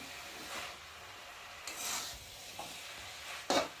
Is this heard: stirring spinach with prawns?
yes